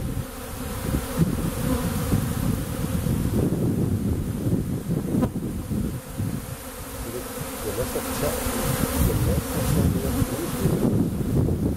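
Dense droning buzz of many bees during a bee removal, steady and close, with wind gusting across the microphone.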